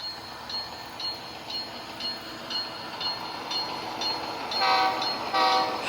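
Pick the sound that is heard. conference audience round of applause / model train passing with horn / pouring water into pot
model train passing with horn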